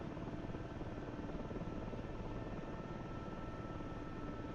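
A helicopter in flight, slowing down, gives off a steady, dense rotor rattle and buzzing drone that stays even and moderately distant throughout, with no voices.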